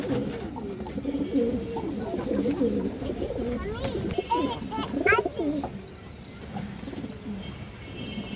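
Silver pigeons at a pigeon farm coo in soft repeated low rolling calls, with occasional chirps, heard under someone talking nearby.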